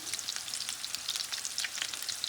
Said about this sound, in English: Here's the sound you want to hear, I tell you, as it's browning.